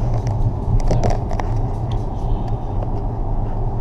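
A Tesla Model S cruises on Autopilot, giving a steady, close cabin hum of road and tire noise with faint soft ticks and no talking.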